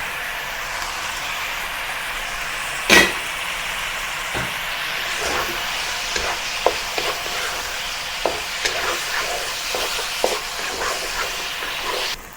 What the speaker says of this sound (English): Now return the eggplant to the wok.